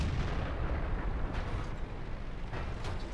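A Covenanter tank's cannon in World of Tanks booms amid a constant low engine rumble, with a couple of distinct heavy shots standing out against the dense battlefield noise.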